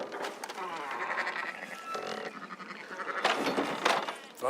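Sheep in the video game Red Dead Redemption 2 bleat in a wavering, nasal run of calls, moderately loud over a faint background, with a voice briefly overlapping.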